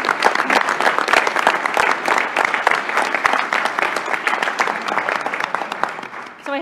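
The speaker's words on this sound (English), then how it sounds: "So a big round of applause for our panelists and for the team at UW-Parkside." Audience at a university board meeting applauding panelists, dense continuous clapping from many hands for several seconds, loud and close, fading slightly at the end.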